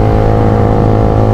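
A Honda CBR150 motorcycle fitted with an aftermarket GP1 exhaust revs loud and close, a steady, unbroken engine roar.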